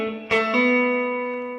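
A full neo soul electric guitar lick is played solo: one struck chord rings out, followed by a hammered note that sustains and slowly decays.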